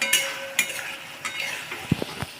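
Masala being sautéed in a pan, close scraping strokes of a spoon with light sizzling and a few metallic taps against the pan.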